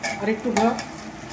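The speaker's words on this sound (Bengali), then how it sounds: "চালটাকে একটু ভাজা ভাজা করতে হবে" Rice grains scrape and rustle as they are stirred and tossed in a hot pan on a large burner for pulao, with a light sizzle and faint voice-like tones in the background.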